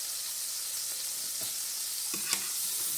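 French toast frying in butter in a pan, a steady close hiss of sizzling with a couple of faint spatula taps and a small clink near the end, with no talking.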